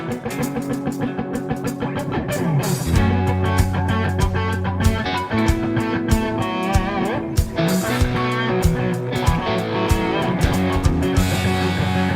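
Fast, driving electric guitar rhythm strummed over a full backing track with drums and bass, loud and continuous.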